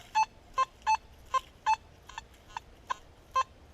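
Metal detector sounding its iron signal in a park, a string of about nine short, clipped electronic beeps at an uneven pace, fairly faint over a quiet background.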